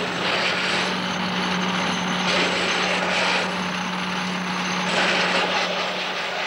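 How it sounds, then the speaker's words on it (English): A prototype robot security guard with cameras in its head moves under human remote control, giving a steady mechanical whirring and hum throughout with a constant tone, fairly loud and with no talk. "This prototype robot security man with cameras in its head appears to be moving cleverly."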